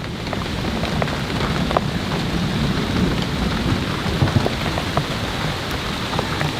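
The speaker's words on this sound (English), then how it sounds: "You can just hear that thunder rumbling." Thunder rumbling low and continuous under steady rainfall pattering on surfaces in an orchard during a summer storm, with scattered sharper drops over the broad wash.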